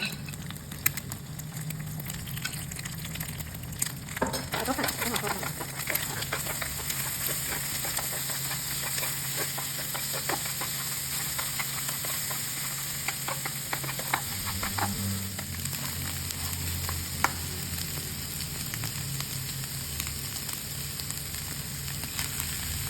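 Nham, Thai fermented pork, stir-fried in a pan with scrambled egg, giving a steady close sizzle and hiss throughout with occasional spatula scrapes and clinks.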